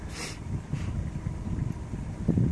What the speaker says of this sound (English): my Honda 20 horsepower engine is purring along, pushing the boat